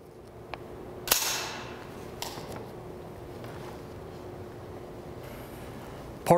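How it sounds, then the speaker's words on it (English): The ejection port cover of a military carbine or rifle is snapped shut, making one sharp metallic click that rings briefly, with a couple of softer clicks and a fainter one near the end over a quiet background. "Close the ejection port cover."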